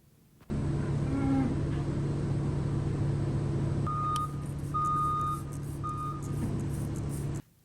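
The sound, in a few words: farm feed truck pulling in, reversing beeps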